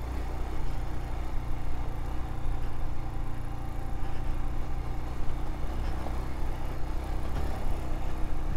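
A Royal Enfield Himalayan motorcycle rolling over loose gravel and shifting into first gear, a low steady engine rumble with rough broadband road noise, moderately quiet and continuous.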